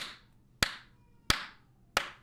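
Three sharp, evenly spaced hand claps ring out about two-thirds of a second apart. Each is crisp and close and decays quickly into quiet.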